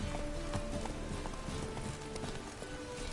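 Hooves of the horse Roach clip-clop at a steady trot in The Witcher 3, a continuous rhythmic patter over a busy ambient background with no talk.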